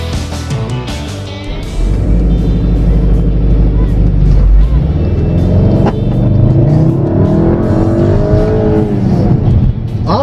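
A turbocharged engine, likely a 2015 VW Beetle Turbo, revs loudly to around 3,500 RPM, climbing steadily in pitch and holding a strained high note before easing off.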